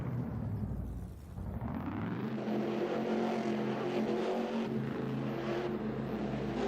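A video game car engine roars and climbs in pitch as it revs steadily, loud and continuous with no voices.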